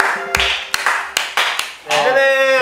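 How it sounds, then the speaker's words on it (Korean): Several sharp claps ring out one by one at an uneven pace, then a voice starts speaking right after. "정말 한번 박수 한번 치고 갈까요?"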